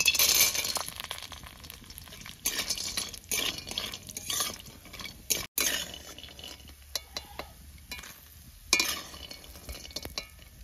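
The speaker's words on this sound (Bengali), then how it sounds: "এবার ডালের বড়িগুলো ভাজে নেবো।" Lentil dumplings (dal bori) frying in hot oil in a kadai make a soft, close sizzle with repeated stirring scrapes and a few light metallic clinks, pausing briefly midway.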